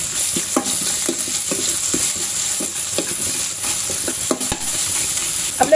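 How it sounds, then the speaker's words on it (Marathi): Bay leaves, black peppercorns, cloves and ginger-garlic paste sizzle loudly in a hot pan for dal khichadi, with a spoon stirring and scraping in a steady rhythm throughout, no voices. "आता आपल्याला हे परतवून घ्यायचंय."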